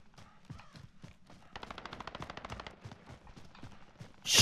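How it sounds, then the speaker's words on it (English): Gunfire in the battle royale game Call of Duty Warzone: a rapid automatic burst of shots rattles through the middle, with scattered single cracks around it and a sudden loud blast at the end. "I'm getting shot at."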